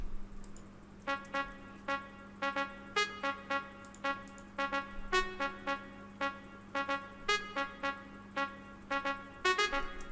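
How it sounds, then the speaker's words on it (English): A short, punchy brass-like riff repeats in staccato notes with a steady rhythmic pattern over a low sustained hum, fairly quiet overall. "So this is a trumpet sound, and this is what it sounds like."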